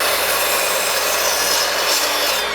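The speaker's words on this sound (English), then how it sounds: "So I've set up the miter saw. We're going to cut off this angle and then cut those out." Miter saw blade cutting through a 2x4 piece of lumber, a loud, close, steady rasping whine held throughout without pause.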